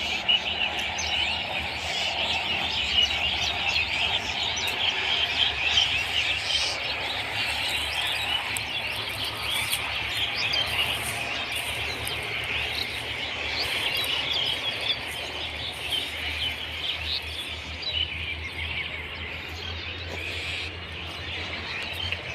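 Birds sing and chirp freely outdoors near a town garden, a steady dense chorus of calls spread across the whole stretch with insect-like buzzing beneath, moderately distant and unbroken by talk.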